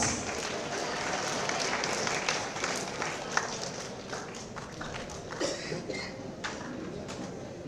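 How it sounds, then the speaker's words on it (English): Sustained applause and clapping from an audience after a volunteers' dance performance on cleanliness, a dense steady wash of claps with scattered cheers and bird-like chirps over the crowd, continuing throughout. "With a huge round of applause."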